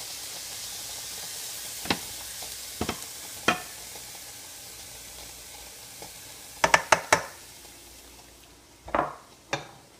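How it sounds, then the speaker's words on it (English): Low, steady sizzle of onion frying in a pan, punctuated by several sharp clinks and taps of utensils against cookware. "I got a good sizzle going on right now."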